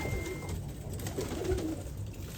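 Pigeons coo softly inside a coop full of young birds, their low calls rising a few times over a steady background hum.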